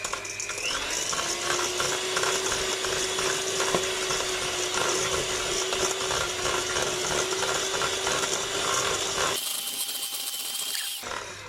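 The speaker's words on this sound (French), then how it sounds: "Je préfère utiliser plutôt le batteur électrique." An electric hand mixer whirs steadily as it beats a soft, butter-like batter for a mango tart, a loud close motor drone holding one pitch, then shifting to a brief higher whine near the end.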